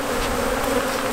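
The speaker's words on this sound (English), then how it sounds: "they're all over in the air, they're all over on the guys" A thick, unbroken drone of honey bees swarming in the air around an open hive box, loud and near, with no talking.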